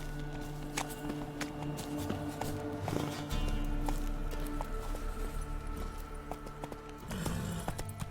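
Horse hooves clip-clopping at a steady walking pace in The Witcher 3 video game, close and clear, with light ambient game sound underneath.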